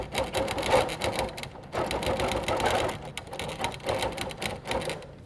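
A sewing machine fitted with a 360 Wonderfoot hopping foot stitches down quilt appliqué, a close, continuous rapid chatter with slight pulsing as the fabric is guided.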